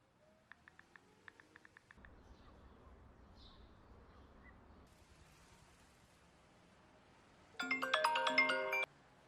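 A mobile phone rings briefly with a loud burst of tonal ringtone near the end, after a stretch of quiet background noise and faint earlier beeps.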